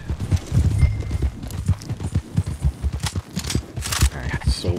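Horse hooves clip-clop in a steady walking rhythm in Red Dead Online, close and clear, with a voice talking over the hoofbeats and a brief snort near the end.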